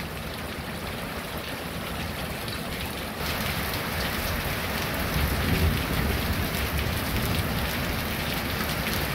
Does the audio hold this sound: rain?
yes